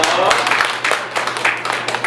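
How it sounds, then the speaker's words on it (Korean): Audience applause at a child's first-birthday party that also marks the mother's birth anniversary, a dense, steady wash of clapping filling the room with no spoken words. "박수 부탁드릴게요"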